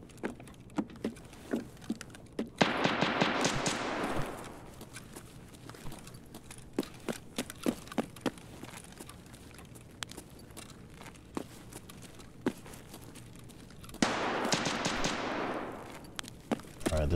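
Muzzle-braked shotgun firing in a video game, a series of sharp, loud single shots at irregular intervals, with two longer bursts of noisy blast and rattle between them and no talk.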